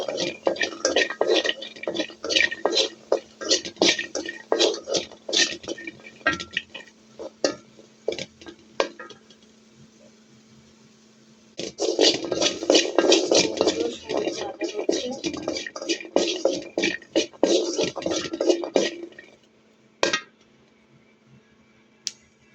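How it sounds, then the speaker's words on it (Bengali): Dried fish, green chilies, onion and garlic dry-frying in a pan without oil, giving a steady run of light crackling and scraping stirs that pause midway, resume, then stop. "তেল ছাড়া আমি শুটকি, কাঁচামরিচ, পেঁয়াজ, রসুন সব ভেজে নিলাম"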